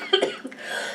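A single short, fairly faint cough from a player during a tabletop Dungeons & Dragons role-playing session.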